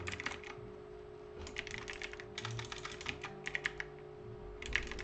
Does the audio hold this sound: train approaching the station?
no